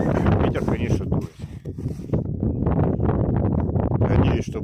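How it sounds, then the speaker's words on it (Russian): Strong gusts buffet a microphone outdoors, a dense rumbling roar that drops briefly and then returns at full strength, with no voices heard. "Ветер, конечно, дует."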